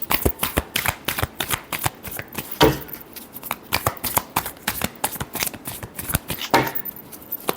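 A tarot deck is shuffled close up in a rapid, steady series of crisp card slaps and riffles, continuing throughout without talk.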